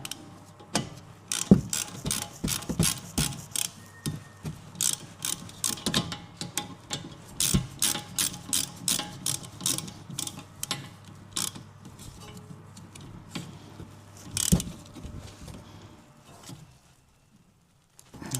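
A socket wrench ratchets while tightening a bolt on the rear brakes of a 2022 Nissan Juke, making close, rapid, rhythmic clicking strokes that slow and stop near the end.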